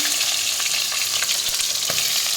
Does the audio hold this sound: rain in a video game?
no